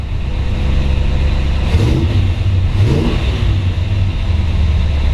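A 1955 Chevrolet 210 Delray resto-mod with a 350 V8 runs with a loud, steady low rumble close by, swelling briefly in two short revs over the idle.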